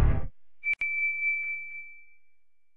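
Electronic notification bell chime: two sharp strikes followed by a single clear ringing tone that sustains and slowly fades, heard alone after a brief burst of low noise.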